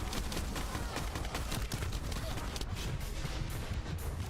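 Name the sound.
minigun fire from Void Erosion in video game The First Descendant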